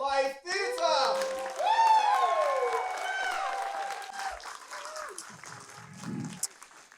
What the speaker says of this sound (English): Can we please make a round of applause which expresses how excited we are to be back in a live theatre?